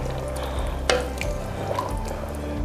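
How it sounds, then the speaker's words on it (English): A spoon stirs through a pot of sausage, sweet pepper, onion and potato stew, giving soft wet sloshing with a low steady hum beneath and one sharper knock against the pot, close and without talk. "I'm just gonna give it a stir"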